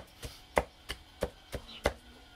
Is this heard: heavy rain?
no